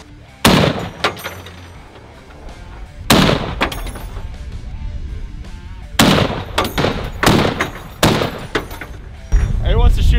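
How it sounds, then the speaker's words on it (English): Anti-materiel rifle fired at a gun range: several heavy, booming shots spaced a few seconds apart, each followed by a long ringing decay, with people talking in between. "That's an anti-material rifle."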